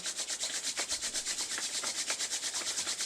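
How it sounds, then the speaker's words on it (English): Palms rubbed briskly together during a yoga session, a close, loud, steady swishing friction repeating in quick regular strokes throughout. "Rub the palms one more time."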